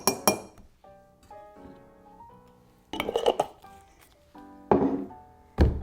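Glass clinks and light taps as a maraschino cherry and a little of its juice are stirred in a glass for an Old Fashioned whiskey cocktail, several short bursts separated by quieter ringing stretches, close and moderately loud.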